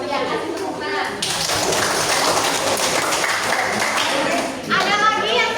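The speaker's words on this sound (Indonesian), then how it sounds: "Ya, kasih tepuk tangan." A group of children clap their hands in a sustained burst of applause, steady and fairly loud throughout, with voices chattering underneath.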